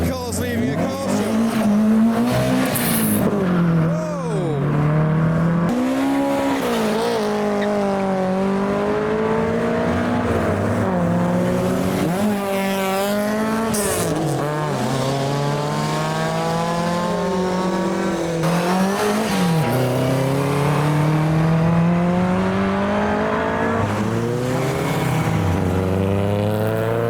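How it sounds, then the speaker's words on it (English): Fast Ford cars, including a Mustang and a Capri, leaving a car show and driving sideways, with loud engines revving hard in repeated rising and falling sweeps and tires squealing as they slide out of a junction, close and continuous. "the Mustang came sideways out the junction there"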